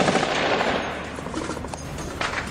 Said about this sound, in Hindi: बाहर गोलियों की आवाजें गूंज रही थी।